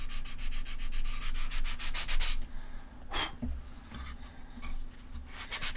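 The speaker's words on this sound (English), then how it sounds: "now I'm going to scuff up the rest of this thing" Sandpaper scuffs a surface in quick, even back-and-forth strokes, loud and close, then pauses with a single longer rub and a few lighter passes after a clunk.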